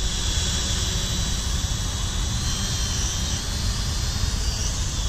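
An X8TW Skyhunter foldable pocket drone hovers close by. Its small propellers give a loud, steady, high buzzing whine that stays constant throughout, with no talking.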